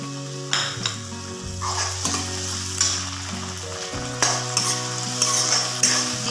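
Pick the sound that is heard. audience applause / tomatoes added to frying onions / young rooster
tomatoes added to frying onions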